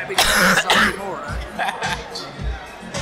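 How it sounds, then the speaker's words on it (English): Several harsh, close coughs come in quick bursts, followed by quieter throat noises and faint background chatter. "I'm only coughing now because I got something in my throat"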